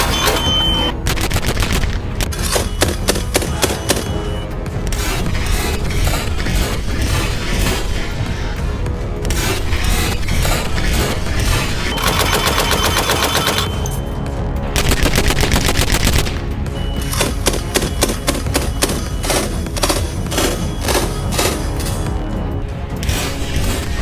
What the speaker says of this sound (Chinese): 下面再火力全开的来一轮射击，